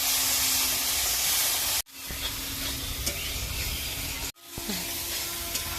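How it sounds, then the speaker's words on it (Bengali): Coriander powder and turmeric frying in oil in a pan, a steady close sizzle and hiss with stirring scrapes, broken by two short pauses before the sizzle resumes. "1 চামচ ধনে গুঁড়ো, হলুদ, একটু ভালো করে ভেজে নেবো এগুলো।"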